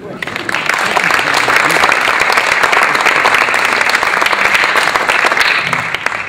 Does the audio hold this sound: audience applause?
yes